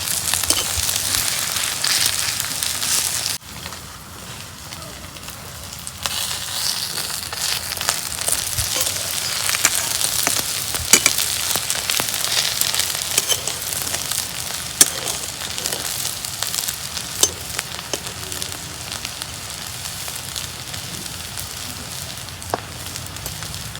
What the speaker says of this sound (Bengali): তেল গরম হলে বড়া ভাজতে টাইম লাগে না।